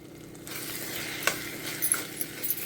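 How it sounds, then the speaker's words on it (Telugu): Tomatoes frying in a pan, a steady sizzle that starts after a brief quiet moment, broken by a few scraping stirs of a utensil against the pan, close and fairly loud. "టమాటా కొంచెం ఫ్రై అయింది కదా"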